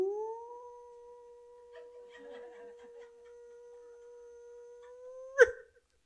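A monk's voice imitates a dog howling in one long, steady, drawn-out tone lasting about five seconds, close and clear over quiet surroundings, ending in a short abrupt burst.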